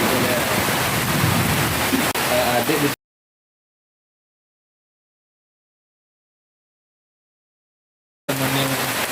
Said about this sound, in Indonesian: Sekarang kondisinya hujan